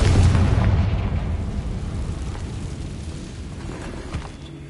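A Confringo spell explosion in Hogwarts Legacy, one loud booming blast at the start that rolls into a long fading rumble and crackle, heard alone.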